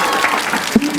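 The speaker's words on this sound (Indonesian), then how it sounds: "Tepuk tangannya mana?" Brief round of audience applause at a live podcast show, a dense patter of clapping lasting about a second, with a voice breaking in briefly near the end.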